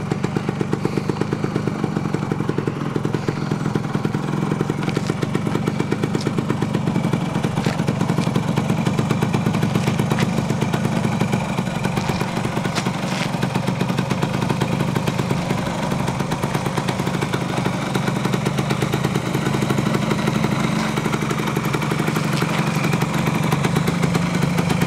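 A 1974 Yamaha DT100A Enduro, a small classic motorcycle, runs steadily throughout with a continuous buzzing engine note and light mechanical clatter, fairly close and loud with no talk over it.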